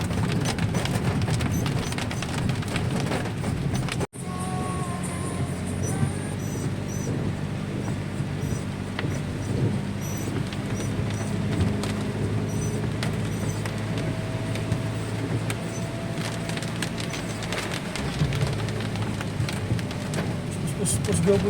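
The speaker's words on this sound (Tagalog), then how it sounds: "ang lakas na ng ulan" Heavy rain falls during a typhoon at a campsite, a dense continuous rushing hiss with some rumble underneath, with voices murmuring faintly in the background.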